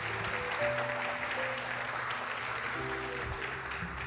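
A church congregation at a Sunday family worship service applauds in a steady, dense wash of clapping that fills the room, with sustained musical tones held faintly underneath.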